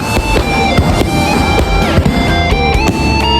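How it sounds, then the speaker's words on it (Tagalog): Rapid fireworks crackle and pop continuously nearby, with sharp bangs scattered through a dense, loud barrage. "Daddy, malaw yung fireworks."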